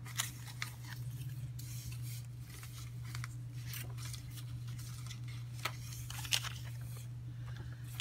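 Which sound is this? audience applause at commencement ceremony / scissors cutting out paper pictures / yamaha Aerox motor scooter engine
scissors cutting out paper pictures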